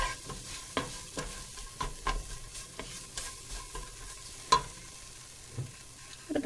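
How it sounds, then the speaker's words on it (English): Flour cooking in olive oil in a pan for white chicken chili, stirred with irregular scraping strokes over a steady low sizzle, close and fairly quiet, no voices. "I'm going to stir it around, let it cook for a couple minutes just to get the flour taste out of it."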